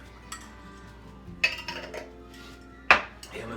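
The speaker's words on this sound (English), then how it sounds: "Stir it up." A spoon clinks against a cup of coffee with cinnamon while stirring, giving a few sharp, bright metallic taps spread out over quiet handling noise.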